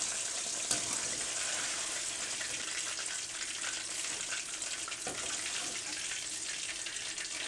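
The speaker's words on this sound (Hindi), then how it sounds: "हम लोग ये बाकी के फ्राई करते हैं" Chicken wings deep-frying in hot oil during the first fry of a double-fry batch, a steady dense crackling sizzle running unbroken throughout with no talking.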